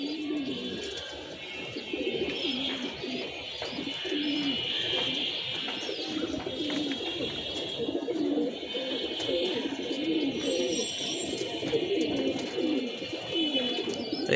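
Pigeons, including young birds, coo repeatedly in soft low rolling calls, with a few higher chirps mixed in, close by and steady throughout.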